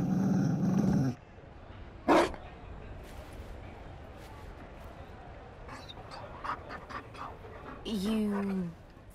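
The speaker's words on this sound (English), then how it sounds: "You found a dog?" A Mabari war dog pants in Dragon Age: Inquisition, quick soft breaths heard close and quiet between short bursts of game sound and dialogue.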